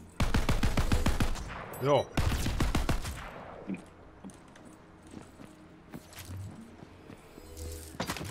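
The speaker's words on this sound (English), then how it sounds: "Someone shooting me." Gunfire in the video game Tiny Tina's Wonderlands, a loud rapid burst of shots up close, then scattered fainter pops and clatter as the action continues, with no voices.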